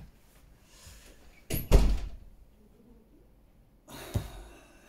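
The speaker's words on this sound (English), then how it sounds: "Please shut the door." A door swings and shuts with a loud thud, followed a couple of seconds later by a softer second knock or latch sound in a quiet indoor room.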